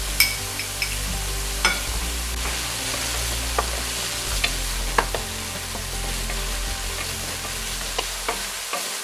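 Beef keema sizzles and fries in a pan with onion and garlic ginger paste. A steady crackling hiss runs throughout, with occasional sharp ticks of stirring and no talk.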